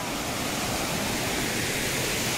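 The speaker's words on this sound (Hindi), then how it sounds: "छोटा चिरचिरी वाटरफॉल" The small Chirchiri waterfall in a forest in Jashpur, Chhattisgarh, roars as a dense, steady, close rush of falling water, alone with no voices.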